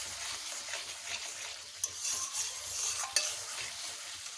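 Spice paste for a mustard pabda fish curry fries in oil in a pan, a steady soft sizzle with a few stirring scrapes and clicks, close and alone.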